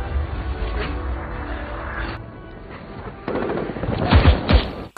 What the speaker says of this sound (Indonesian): menghindari tembakan tentara Jerman